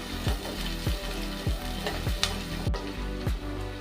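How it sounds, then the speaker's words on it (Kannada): Chopped onions fry in hot oil for egg sambar, a steady close sizzle punctuated by regular scraping strokes of a spoon stirring the pan, with no voices. "ನಾವು ಈರುಳ್ಳಿಯನ್ನು ಚೆನ್ನಾಗಿ ಫ್ರೈ ಮಾಡ್ಕೊಳ್ಳೋಣ"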